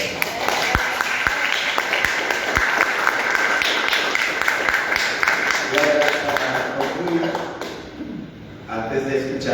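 Audience applause at a Nicaraguan microfiction panel discussion, steady dense clapping from a seated crowd that fades near the end as voices return.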